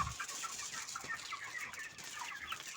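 Chickens clucking in a poultry house with battery cages, a soft, continuous chatter of many birds with scattered overlapping calls, heard at low volume without talk.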